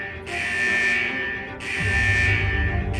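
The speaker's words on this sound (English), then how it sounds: "Is that the central alarm of the vault?" A blaring alarm from a vault's central alarm system in the video game Wuthering Waves: two long, loud, steady electronic buzzer tones, each about 1.3 seconds, with a brief gap between them.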